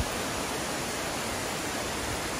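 A waterfall roars steadily, a dense, unbroken wash of rushing water, loud and close with no pauses.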